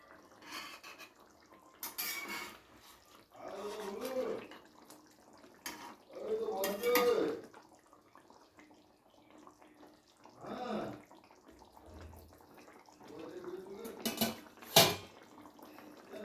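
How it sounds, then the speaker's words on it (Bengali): A pan lid lifted and raw hilsa fish pieces turned over in a pan while cooking Bikrampur-style ilish panikhola: a few soft, scattered metallic clinks and scrapes, with a person talking between them. "আমি ঢাকনাটা খুলে মাছগুলোকে এবার একটু উল্টে দেব"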